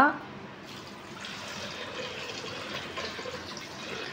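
Water pours steadily into a pressure cooker over potatoes, a close, continuous splashing fill that begins after a short knock.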